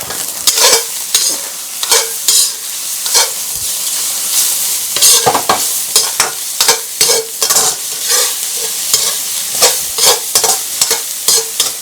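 Mushroom fried rice is stir-fried in a hot pan, with a loud continuous sizzle and frequent rhythmic scrapes and tosses of the spatula, close up and with no talking.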